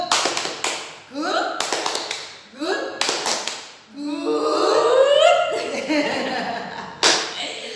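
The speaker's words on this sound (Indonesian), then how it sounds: "Tepuk good." Rhythmic "tepuk good" clapping chant led by a teacher for pupils studying at home: several bursts of quick hand claps in patterned groups, with a chanted voice in between, close and loud.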